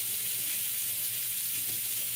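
Tap water runs steadily into a sink while lettuce leaves are rinsed for a burger, a continuous close hiss with no talking.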